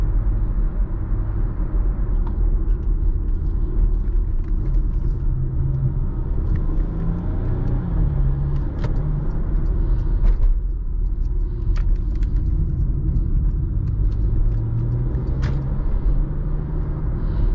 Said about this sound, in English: Never quite driven a car with an exhaust that impressive, let alone like a crossover SUV.